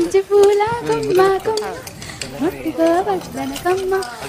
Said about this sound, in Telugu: వెంకటేశ్వరరావు గారు చికెన్ తెగ తిప్పేస్తున్నారు